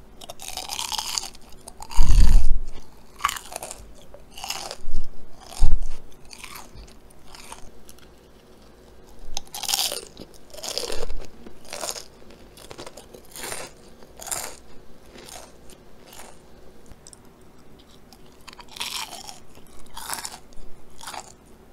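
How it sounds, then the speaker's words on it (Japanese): Crispy, skin-like Korean delivery fried chicken being bitten and chewed close up, producing irregular crunches with a few sharper bites, then a quieter stretch of steady munching. "このなんか皮みたいなやつ絶対超音出るわ"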